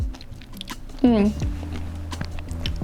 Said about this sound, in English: we're talking a little bit of crunch from the poppy seeds